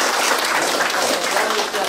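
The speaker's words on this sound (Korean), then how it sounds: "큰 박수로 환영해 주세요." A crowd at a book launch ceremony for an amateur radio league breaks into dense, loud applause that continues for the full two seconds.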